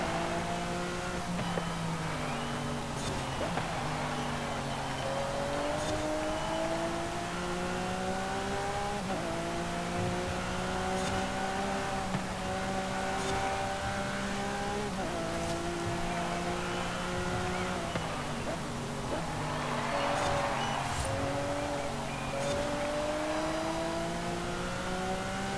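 A 2018 Lamborghini Aventador SVJ V12 in Forza Horizon 5 howls through repeated gear changes, its engine note climbing and dropping again and again, loud and continuous with no voices.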